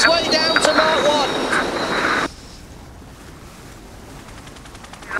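SailGP F50 foiling racing catamaran bucking through waves during a race start, heard as loud rushing water and wind noise with commentary voices over it, cutting abruptly to a quieter, thinner wash of wind and spray.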